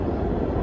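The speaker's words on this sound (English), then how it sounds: "That's the train underneath me." Subway train rumbling beneath a New York City street near Morningside Park, where the local B and C lines run; a steady, dense low roar fills the whole moment without a break.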